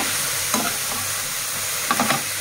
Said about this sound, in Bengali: এবার সুন্দর মতো নেড়ে চেড়ে নিয়ে